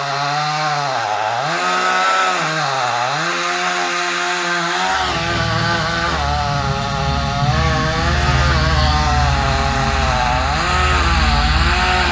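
A chainsaw cutting a tree idles and revs unevenly for several seconds, then bites in with a loud, steady, near roar held under load to the end.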